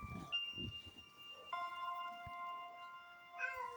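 A pet cat meows indoors. The call is long and drawn out, quiet and fairly close, with a few soft knocks and rustles around it.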